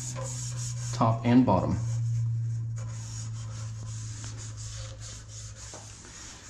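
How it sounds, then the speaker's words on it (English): Adhesive promoter primer is rubbed by hand onto a motorcycle light bar on a Can-Am Spyder F3, giving soft, faint scrubbing strokes beneath a brief spoken phrase and a low steady background hum. "we're gonna rub that on this bar"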